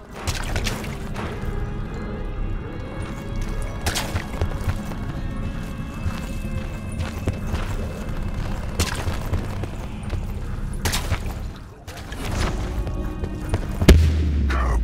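An explosion goes off in the game Dead of the Night, a deep low boom that lands near the end after a stretch of busy game effects.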